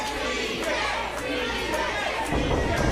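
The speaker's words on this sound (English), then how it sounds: "this crowd chanting CJ" A wrestling show crowd chants CJ's name as a steady, dense roar of voices, with a commentator talking over it throughout.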